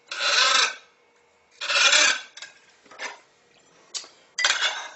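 A knife cuts a melon into cubes for exotic fruit and shrimp skewers, giving several rasping, scraping strokes in bursts of about half a second, separated by quiet pauses, close and fairly loud.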